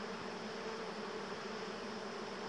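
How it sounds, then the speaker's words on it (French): Honeybees from a very strong colony swarm thickly around a hive during transfer, producing a dense, continuous droning hum, steady and close with no breaks. "c'est envahi d'abeilles"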